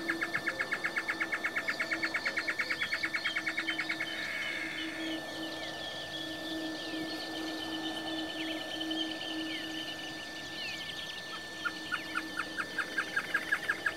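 Great antshrike (chororó) calling near ligustrum shrubs in Esperanza, Santa Fe, Argentina: fast accelerating rattled note series at the start and end, with other birdsong and a steady hum in between.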